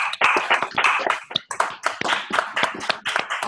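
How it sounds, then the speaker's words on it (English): A school audience gives a round of applause for visiting guests: many hands clapping loudly and continuously nearby, with a few sharp individual claps standing out. "let's give our guests a round of applause"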